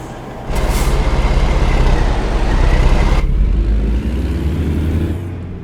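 A Kenworth W900 truck in American Truck Simulator cruises on the interstate. Its deep engine drone starts abruptly, holds a loud steady rumble with a hissing layer that cuts off partway, then keeps droning.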